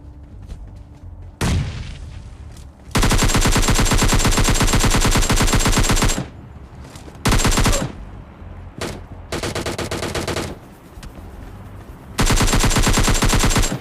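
Loud AKM automatic fire in PUBG Mobile Lite rips out in long sustained bursts, broken by short pauses and a few single shots, close and dominant with no talking.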